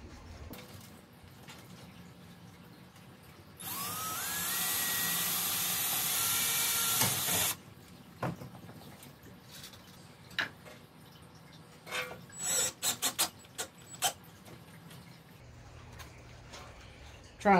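A cordless drill drives a flat-head screw into a boat trailer fender fitted with a diamond plate tread guard, giving one sustained, loud whirring run of about four seconds, then scattered clicks and handling knocks.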